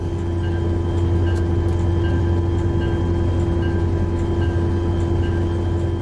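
A BN intermodal freight locomotive engine in Train Simulator 2020 drones steadily with a low diesel hum and tonal whine, continuous and even, with no talking.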